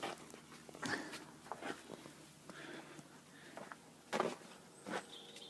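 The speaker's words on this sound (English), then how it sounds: "You can hear the noise, it's the dog playing with a cat." Scuffling and thumping of a dog playing with a cat, soft dog grunts and breathy noises, intermittent bursts over quiet background.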